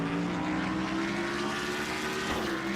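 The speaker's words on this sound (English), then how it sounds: "Shelton gets her car to start back up and" A race car engine in a racing video game drones steadily, loud and continuous throughout, with a sustained mechanical tone and no talk.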